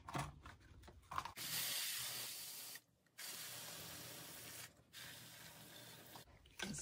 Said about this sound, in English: Pump it up again, and that's all you're doing,